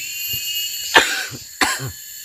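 Two harsh, close coughs about half a second apart, each followed by a short rasping breath.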